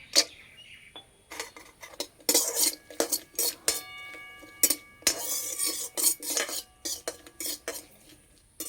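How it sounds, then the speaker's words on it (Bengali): Whole spices, bay leaf, cardamom and cloves, fry with cashew nuts in ghee in a kadai, heard as a close run of irregular metal spoon clinks and scrapes against the pan, with no talking. "এখানে নিয়েছি তেজপাতা, এলাচ, লবঙ্গ। হালকা করে একটু ভেজে নেব। এবার দেবো কাজু বাদাম।"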